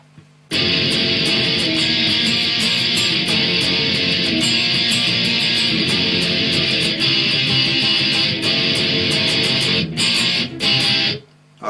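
Electric guitar strums chorus chords in a steady, driving rhythm for about eleven seconds. It plays loud and close, with no talking, then cuts off abruptly.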